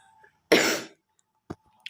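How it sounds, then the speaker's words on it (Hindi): A single short, forceful cough close to the microphone, followed by a faint breathy sound in an otherwise quiet room. "मुझे बहुत खांसी हो रहा है"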